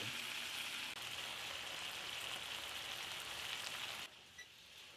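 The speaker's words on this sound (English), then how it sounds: "I'm going to cook this just a little bit longer until my meat looks like it's medium or so." Steak sizzles in a hot pan, a steady soft hiss of frying fat that runs continuously and quietly, dropping slightly near the end, with no talking.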